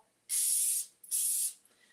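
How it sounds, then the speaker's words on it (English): Two hissing bursts of olive oil cooking spray onto a spatula, each about half a second long with a short pause between, close and clear. "I'm gonna spray my spatula with a little bit of the olive oil."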